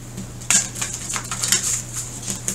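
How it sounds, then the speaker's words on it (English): A large, awkward deck of cards being shuffled sideways, giving a run of soft, crisp riffling and flicking bursts in an uneven rhythm, close and fairly quiet, with no voices. "You can see I'm shuffling sideways."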